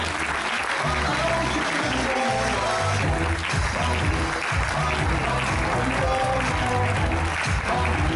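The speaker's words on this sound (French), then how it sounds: "on peut l'applaudir bien fort, Jérémy." Audience applause at a wedding fair fills the room in a steady, dense wash for the whole stretch, loud and close, with a low murmur or music underneath.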